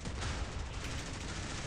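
Anti-aircraft guns blazing away in Modern Warships, the naval combat game, a dense unbroken clatter of rapid fire that stays loud and steady for under two seconds with no talking.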